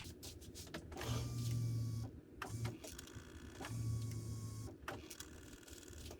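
An electric fuel pump in a car primes after the ignition key is cycled during a fuel-injector test, building pressure to about 50 PSI. It gives two steady low buzzing hums of roughly a second each, separated by a short pause.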